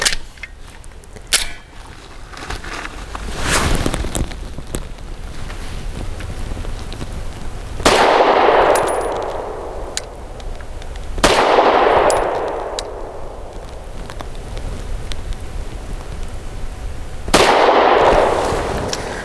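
A BUL Armory SAS II Ultralight 3.25 pistol fires 100 grain lead-free rounds. About five sharp reports come at irregular intervals, the later three loud with ringing tails, and no one speaks.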